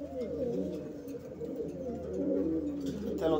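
Pigeons cooing at a pigeon-keeping spot in El Vedado, Havana: a steady, close murmur of low, rolling coos that runs throughout, with people talking alongside.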